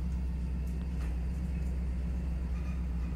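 A steady low engine rumble drones on without a break, a Quadra Sport R-7 Vigilante car motor in Cyberpunk 2077 humming at an even pace with no voices over it.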